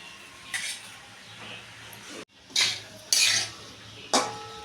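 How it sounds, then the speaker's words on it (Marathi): A spoon scrapes and clanks against a pan while grated carrot halwa is stirred and fried, several distinct metallic strokes separated by quieter pauses. "आता आपण फ्राय करून घेऊया सतत हलवत राहायचं"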